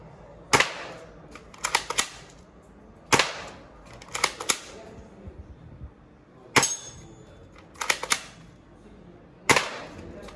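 Sharp toy assault rifle shots crack in irregular bursts, single pops and quick clusters of clicks separated by short pauses, close and loud.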